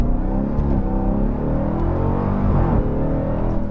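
A 710hp Dodge Durango SRT Hellcat AWD three-row SUV sits in launch mode, its engine giving a loud, close, throbbing rumble whose pitch stays steady and swells only slightly under brake pressure.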